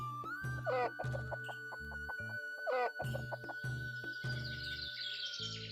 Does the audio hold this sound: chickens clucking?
yes